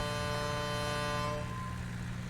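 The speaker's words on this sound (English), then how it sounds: "Angry ship captain, he honks all that time." A video game ship's air horn gives a long, steady, deep blast holding for over a second, then fades into a low rumbling engine drone.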